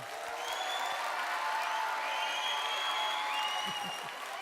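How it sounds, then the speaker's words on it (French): Audience applauding at an afternoon prize ceremony, a steady wash of many hands clapping at moderate, fairly distant level, with faint tonal sounds and brief murmurs under it. "vous pouvez vous applaudir déjà"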